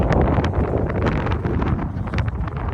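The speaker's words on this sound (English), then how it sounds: "the weather looks really good. It's been quite windy." Steady, loud wind buffeting the microphone on a backpacking trip outdoors, a dense broadband roar with rumbling low end that stays constant throughout, with no one speaking.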